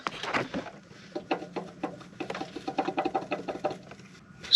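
A blown Mitsubishi Evo X turbo with shaft play is spun by hand, giving a faint, close, irregular scraping and ticking chatter in quick uneven bursts.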